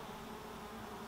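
Honeybees on a hive feeder give a steady, dense buzzing hum, close and continuous, with no voices.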